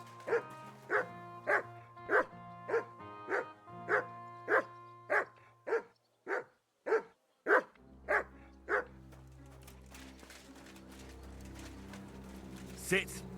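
A dog barks repeatedly in the medieval role-playing video game Kingdom Come Deliverance 2, a run of about a dozen loud, evenly spaced barks close by, followed by quieter game ambience.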